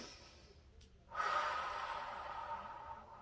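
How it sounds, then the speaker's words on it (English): A slow, deep breath drawn in during a guided yoga session, one long airy inhale-exhale that swells suddenly and then holds steady, close and soft, with no talking. "One more deep breath."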